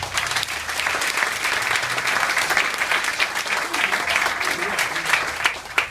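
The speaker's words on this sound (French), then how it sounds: "je voudrais qu'on l'applaudisse" Audience applause in Monaco's National Council chamber, a full, sustained round of many people clapping at steady loudness throughout, close and dense with no speech over it.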